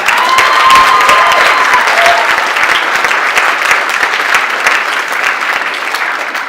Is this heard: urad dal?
no